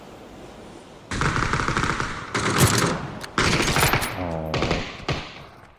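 Gunfire in the battle royale game PUBG: several loud bursts of automatic fire in quick succession, with a player's brief exclamation in between.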